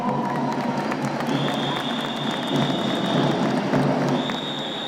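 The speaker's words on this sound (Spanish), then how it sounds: "Un aplauso para nuestro prefecto" A crowd at a national good-habits event in Riobamba applauds and cheers for the provincial prefect, with dense, steady clapping and a shrill steady tone sounding through part of the noise.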